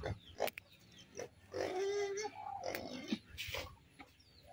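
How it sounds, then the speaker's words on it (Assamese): A pig squeals and cries in a rural Assamese yard, loud strained squeals in several bursts, with hen clucks nearby. "গাহৰিটো ইমানকৈ কান্দি আছে যিমান দানা দিলেও কান্দিয়ে থাকে"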